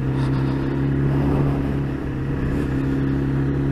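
Yamaha FZ1-N motorcycle being ridden, a steady engine drone with wind rumble, continuous and close, holding level throughout with a slight dip midway.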